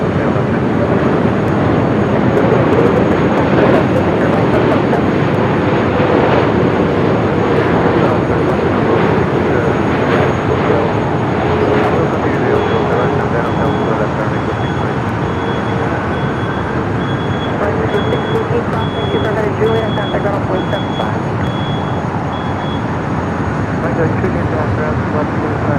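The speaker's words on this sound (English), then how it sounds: "the Cathay Pacific Queen up next for arrival on the north side" A 13-year-old Cathay Pacific Boeing 747-8 freighter arrives at LAX on the north side, a loud, sustained jet roar with a faint steady whine, holding level throughout and fading only slightly.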